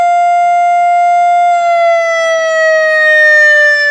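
A loud electronic siren from a Whelen speaker driver wails steadily with a slow rising and falling pitch, holding a continuous tone throughout with no voices.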